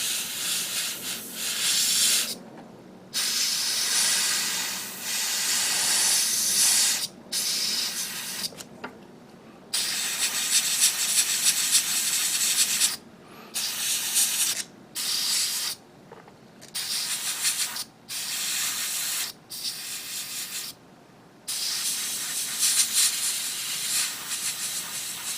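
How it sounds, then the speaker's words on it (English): An airbrush sprays paint onto a 1/100 MG Freedom Gundam 2.0 model kit in repeated bursts of steady hissing separated by short silences. The airflow comes from a compressor that is losing pressure, and the hiss is close and loud with no speech. "Starting to feel the pressure losing on my airbrush, on my compressor."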